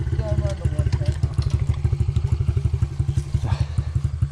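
A 110 dirt bike engine idles nearby with a rapid, even, thumping putter, while people talk over it.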